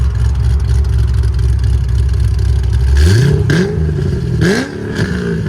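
A cammed Chevy Corvette Z06 with a 7.0L V8, headers and open exhaust valves idles with a loud, lumpy rumble, then barks through several sharp revs that climb and fall back, with no talking.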